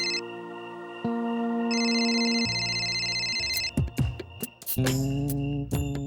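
A phone rings indoors at night in a quiet home, its electronic ringtone repeating in steady tones for a few seconds before being cut off amid a brief shuffle of movement.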